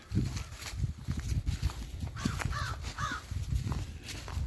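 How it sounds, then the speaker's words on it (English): Three raspy caws from crows at moderate distance, evenly spaced, over a busy background of rustling and shuffling footsteps. "The crows are out."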